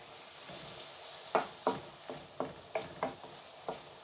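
Liver frying in a pan while being stirred for a dried shrimp bhuna, giving a soft sizzle broken by about eight sharp scraping stirs at a steady rhythm, close and fairly quiet.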